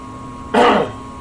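A single close, loud throat clearing from one person, a short rough rasp lasting under half a second, set against a quiet room hum.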